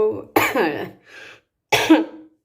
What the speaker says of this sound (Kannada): ಕೆಮ್ಮು ಕಾಫ್